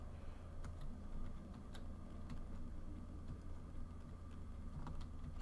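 Sparse, faint computer keyboard key presses, irregularly spaced, over a steady low hum of a truck engine in American Truck Simulator, with no talking.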